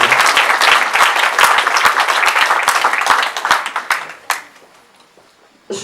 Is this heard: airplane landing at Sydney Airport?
no